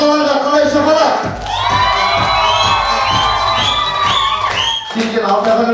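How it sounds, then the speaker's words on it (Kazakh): A crowd at a Kazakh wedding farewell celebration cheers for the performing in-laws, with rising whoops and shouts layered over a busy, noisy background and brief voices at the start and end. "Бірінші кезекте өнер көрсеткен құдаларға қалай шапалақ?"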